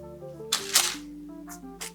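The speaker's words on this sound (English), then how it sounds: "I am just going to spray the chickpeas with a little avocado oil" Two short hissing bursts of avocado oil spray onto chickpeas, then two quicker puffs, close by over a steady background hum.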